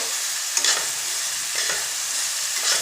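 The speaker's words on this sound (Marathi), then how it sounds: "त्याला दोन मिनटं असंच परतून घ्यायचं" Chickpea leaf greens sautéing in a pan, a close, steady sizzle with a few brief scraping stirs, no voices.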